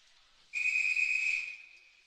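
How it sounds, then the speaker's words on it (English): A single long, shrill referee's whistle blast at an ice hockey game, loud and steady for about a second, then trailing off over faint background noise. "And we'll get a whistle."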